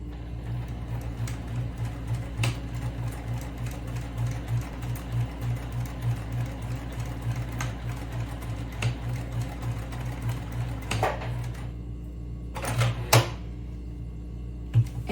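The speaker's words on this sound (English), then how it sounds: "Now I'm going to start to sew" A sewing machine stitches fabric for a DIY lunch bag, a close steady mechanical whirring with a rapid needle rhythm that runs throughout, ending in a couple of sharper clicks.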